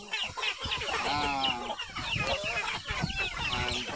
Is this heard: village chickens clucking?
yes